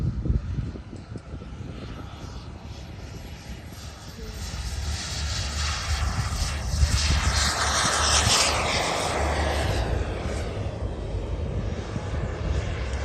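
A model jet aircraft flies past at the Abingdon air show, a loud rushing turbine roar that swells and fades as it sweeps overhead, with wind buffeting the microphone and no speech over it.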